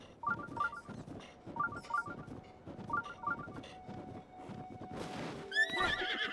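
A horse in The Legend of Zelda: Breath of the Wild whinnies repeatedly over steady clip-clopping hooves, with a bright chiming game tone near the end, moderately loud and without talk.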